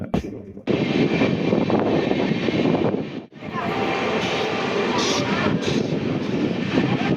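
Express train 16231 on the Cuddalore–Mysore run rolls at medium speed through Anandatandavapuram station, a steady loud rumble of wheels and carriage noise heard from inside, with a brief dip midway.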